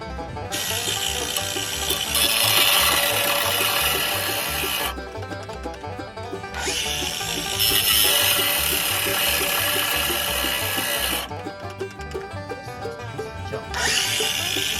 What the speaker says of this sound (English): So we'll cut the bolt off right back at the end of the threads